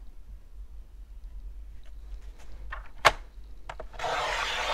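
Scrapbooking paper is cut to size with a trimmer. Soft scraping and rubbing lead up to a sharp cutting snap, followed by a few light taps and a brief swishing rustle at the end.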